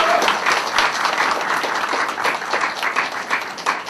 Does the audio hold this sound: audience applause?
yes